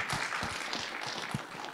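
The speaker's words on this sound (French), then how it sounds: "Applaudissez le bébé." An audience applauds a baby at a masterclass, a quiet, brief patter of scattered clapping in a room.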